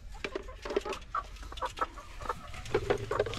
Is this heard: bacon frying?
no